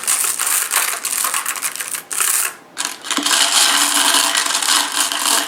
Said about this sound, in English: you can just hear the difference in the tone for glass stones in the bowl versus the shell stones